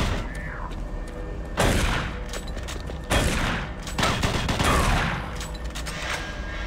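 Loud, booming shotgun blasts in Doom 3 come in several heavy bursts that each break through a noisy, rumbling background, with a faint voice underneath.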